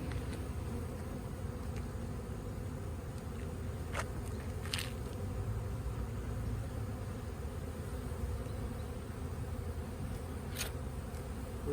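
A honeybee swarm hums in a continuous low buzz, with bees fanning at three frames of comb, a few individual bees zipping close past the microphone, no voices.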